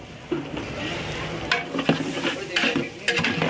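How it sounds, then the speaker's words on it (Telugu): Masala carrot fry with grated coconut is stirred in a large pan of about ten kilograms, a continuous close sizzle broken by scraping strokes and sharp metallic knocks of the spoon against the pan. "ఈ రెండు మసాలాలు కలుపుకోవాలి. కొబ్బరి బాగా కలిసేలా."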